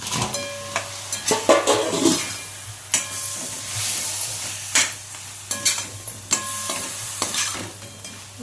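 Crab pieces sizzle and fry in a pan for a crab gravy, with repeated scraping stirring strokes over a steady close hiss.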